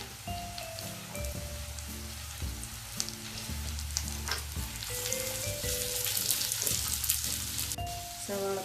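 Green chillies and sliced onions frying in a pan for a Kerala-style squid roast, a soft steady sizzle and crackle running throughout, with a repeating tonal melody playing over it.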